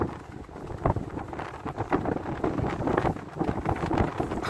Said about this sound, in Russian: Видите, как у меня штаны прям фигачат от ветра